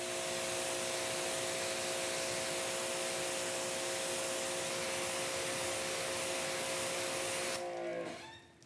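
Pressurised water spray rinses a car panel coated with ceramic spray, a loud steady close hiss that cuts off near the end.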